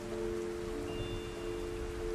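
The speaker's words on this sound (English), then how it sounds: "The rain continues its gentle percussion against the windows you pass" Steady gentle rain pattering against windows, a continuous soft hiss with a low steady hum beneath, no voices.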